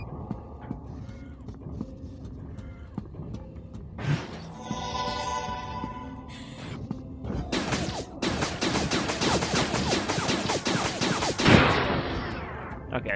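Robot's gun firing in the video game Iron Soul, a dense run of rapid sharp shots that fills the latter half of the clip after quieter game sounds, loud and close.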